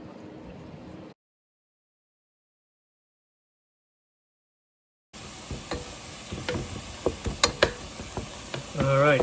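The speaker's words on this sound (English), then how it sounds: "All right, cooking up some meat because we have some power right now." Meat frying in a pan on a home stove during a winter storm power outage, a steady close sizzle with scattered pops and stirring clicks, after a brief cut of silence near the start.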